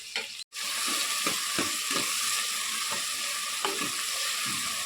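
Mushroom curry with onion and tomato frying in hot oil in a pan, a steady loud sizzle with occasional stirring scrapes and clinks, no talking.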